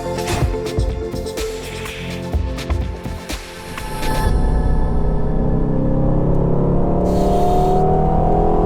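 An Aston Martin Vantage sports car drives past, its engine noise building and then settling into a loud, sustained roar that stays close for the second half.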